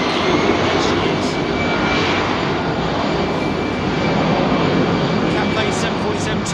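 A KLM airliner near runway 27R at London Heathrow, a loud continuous jet engine rumble close by, with a voice speaking over parts of it.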